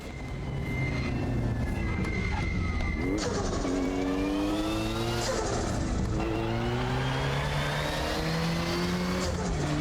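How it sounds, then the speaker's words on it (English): A race car engine in the RaceRoom video game, driven on the Macau circuit, revs loudly and continuously, its pitch climbing and dropping through gear changes. "The noise of this car is amazing."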